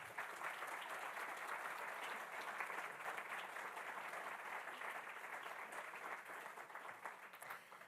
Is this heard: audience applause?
yes